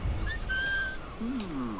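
A player character in the video game Assassin's Creed 4 Black Flag whistles to lure a guard over, giving a few clear, thin whistled tones with a rising note at the end, heard alone over quiet game ambience.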